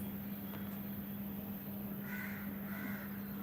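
Crows caw twice near their nest, two short raspy calls close together over a steady background hum and distant traffic noise.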